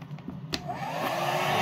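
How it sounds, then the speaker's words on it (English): A hair dryer, set to low and pushed into a hole in a box, is used to dry a freshly painted 1:25 scale AMT '66 Chevy Nova model. A few light clicks come first, then a steady whooshing roar that builds and holds. "you take a hair dryer and you literally shove it down in the hole"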